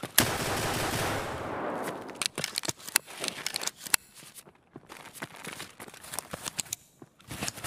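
Gunfire in the Escape from Tarkov video game: a loud sustained burst of automatic fire for about two seconds, then a string of sharp scattered shots and clatter continuing throughout.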